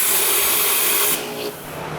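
A door lock boring machine, 990 Series 994-X, drills a test bore into a door with a 1-inch bolt drill bit. A steady, dense grinding whir runs at full strength, then eases off to a quieter hum about halfway through.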